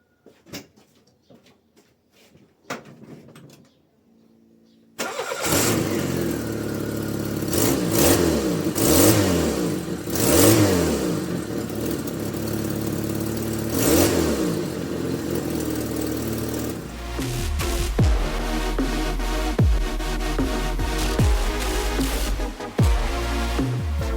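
Peugeot 106 off-road project car engine after new spark plugs: faint clicks, then the engine catches and revs repeatedly in rising and falling sweeps before settling into a rough, steady idle, loud and close.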